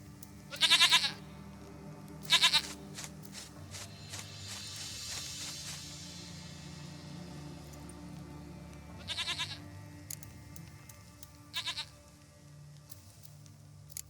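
A goat in The Witcher 3 lets out short bleats spaced apart, two near the start and two more later, over quiet ambient game sound with faint movement between the calls.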